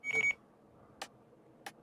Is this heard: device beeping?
yes